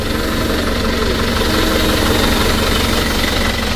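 An Isuzu Traga diesel engine, freshly rebuilt, runs steadily at idle with a loud, continuous low rumble and knocking throb, close up and with no voices.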